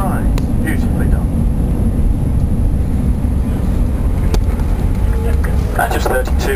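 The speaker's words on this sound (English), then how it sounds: "Reverses are deployed, autobrakes kicking in, speed rapidly decreasing now through 100 knots" An airliner landing with thrust reversers deployed and autobrakes engaged roars as a loud, steady broadband rumble that fills the whole stretch, with a voice speaking over the noise.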